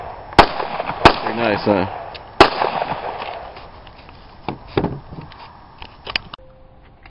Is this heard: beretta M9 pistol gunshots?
yes